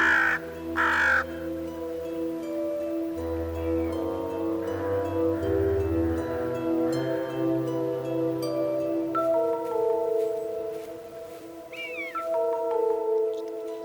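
Crows cawing near a river as birds compete over prey, with a red kite and magpie nearby; repeated harsh caws, some close and loud, over a bed of music.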